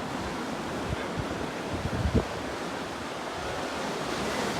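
Strong ocean waves wash steadily onto the beach at Lands End in San Francisco, a continuous broad roar of surf mixed with wind buffeting the microphone, with one brief louder surge midway.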